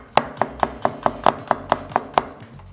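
A knife chops garlic on a board in ten crisp, evenly spaced strikes, each a sharp close tap, steady in rhythm before falling quiet.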